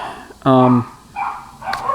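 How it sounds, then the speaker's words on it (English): Dogs barking near a home workshop during a Ford 6R140 transmission rebuild, one loud sharp bark followed by shorter yips and growly barks as a scuffle starts, a few quick bursts over about two seconds. "Some dog fights about to happen."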